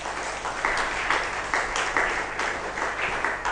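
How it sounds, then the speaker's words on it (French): A church congregation applauds during a Sunday service: dense, steady clapping from many hands in a reverberant hall, swelling in rhythmic waves throughout, with no talk over it. "Acclamons le Seigneur."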